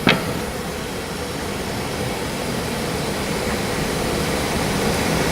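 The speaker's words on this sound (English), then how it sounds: "Now we're going to use the wide belt sander to sand these down the rest of the way." Wide belt sander sanding wood pieces milled to 5/8 inch, a loud, continuous broadband roar that starts with a brief sharp knock and holds steady without talk.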